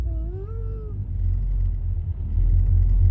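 A car driving with a steady low engine rumble throughout, briefly overlaid at the start by a rising and falling cat-like whine, then just the constant road hum.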